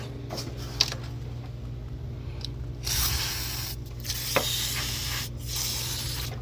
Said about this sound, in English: We're gonna spray some on the top.